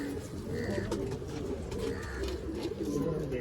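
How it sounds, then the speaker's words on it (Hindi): Pigeons coo softly and repeatedly nearby, low rolling calls over a faint background murmur. "इन कबूतरों को, ये 4 वर्षीय कबूतरी है।"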